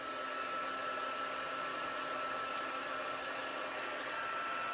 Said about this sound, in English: this is our heat tool. I'm gonna put on the second level.